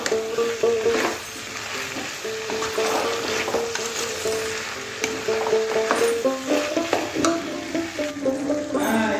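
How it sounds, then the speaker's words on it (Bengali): Square-cut diced capsicum goes into softened onions frying in a pan for chilli chicken, with a close sizzle under repeated scraping and stirring clatter from a utensil against the pan. "পেঁয়াজগুলো একটু নরম হয়ে এসছে, সেই টাইমে দিয়ে দেবো ক্যাপসিকাম"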